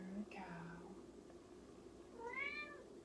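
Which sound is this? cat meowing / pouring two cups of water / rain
cat meowing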